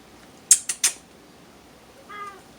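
A pet cat gives a brief meow near the end, preceded by three sharp clicks or creaks close by, the rest of the moment quiet.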